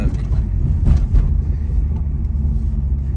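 A powerful car of about 1000 horsepower drives with a deep, loud engine rumble heard from inside the cabin, the low drone steady with slight surges and no talk over it.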